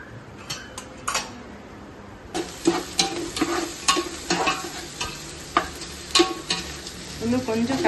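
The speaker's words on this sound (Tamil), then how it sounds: "வெங்காயம் வதக்கணும் இல்லையா, அதுலேயே இந்த ஒரு 10 முந்திரியும் போட்டுருவோம்" Sliced onions and about ten cashews sauté in a pan for biryani, sizzling steadily under repeated scraping strokes of a spoon stirring against the metal, loud and close.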